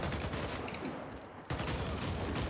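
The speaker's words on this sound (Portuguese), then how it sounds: "Um tiro de AK-103 a queima-roupa na jaca." Rapid AK-103 rifle fire in the video game Warface, a dense burst of loud shots that pauses briefly then resumes, harsh and close.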